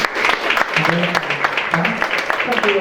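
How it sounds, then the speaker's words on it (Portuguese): A wedding congregation gives a short burst of brisk applause, with many hands clapping at once for just under three seconds while voices chatter underneath. "Até as palmas, pessoal, né?"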